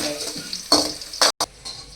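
Onions and tomatoes are stirred and scraped in a pan with a soft frying sizzle, a few sharp clattering bursts of a spoon against the pan, no talking.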